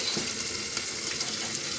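Mustard oil sizzles in a hot wok on a gas stove, a close, dense, steady crackling hiss with no pauses.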